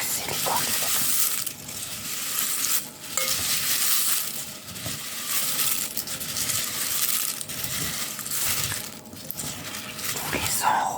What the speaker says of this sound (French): Puis vous mélangez avec 2 cuillères à soupe pour ne pas casser les cornflakes.